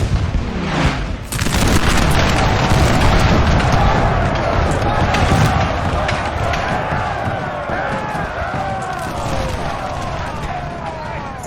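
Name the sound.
artillery fire in Napoleon Total War video game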